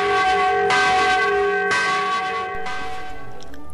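A newly installed church bell rings loud and close in repeated strikes, each tone sustaining with rich overtones, on its own with no voices.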